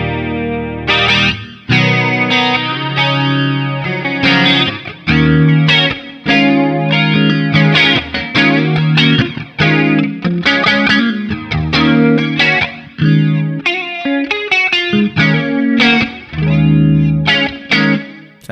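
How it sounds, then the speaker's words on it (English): Guitar chords and picked notes played through an S-Gear 3 amp sim's flanger inspired by the Electro-Harmonix Electric Mistress, with a swirling, jet-like whoosh on each strum. "so you can hear maybe more of a flange type sound"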